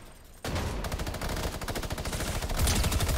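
Rapid automatic gunfire in Fortnite hitting the player, a dense, loud, continuous stream of shots lasting a few seconds with fast rhythmic cracks and no talking.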